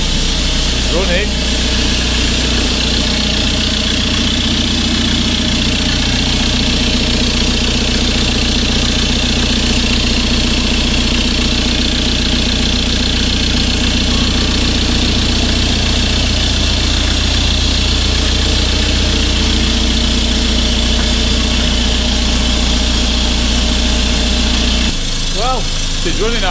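A Ford Transit Mk1 van engine idles with no exhaust fitted, a loud raw steady drone with constant vibration that runs unbroken for nearly the whole span before cutting out near the end.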